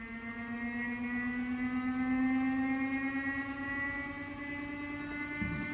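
A homemade pulse motor runs steadily with its voltage being raised, giving a sustained tonal hum with stacked harmonics that slowly shift in pitch, fairly close and alone with no talk.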